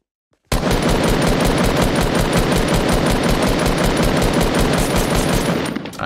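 Loud, rapid automatic gunfire in the video game Fortnite, a continuous rattling burst of evenly spaced shots that starts abruptly and runs for several seconds without talk.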